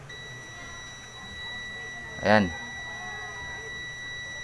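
Continuity buzzer of a multimeter tested across the overload protector of a Condura single-door refrigerator, a short loud harmonic beep of about a quarter second, steady tones and faint speech around it.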